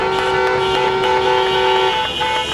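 Car horns honk in a loud, sustained blare that continues for about two seconds, with a few overlapping toots from a street protest.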